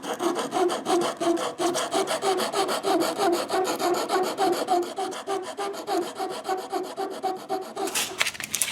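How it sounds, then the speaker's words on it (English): A drill bit wrapped in sticky 120-grit sandpaper spins against guitar kit wood, giving a loud, continuous rhythmic rasping with fast regular strokes throughout and no talking. "this is just a drill bit wrapped up in sticky sandpaper."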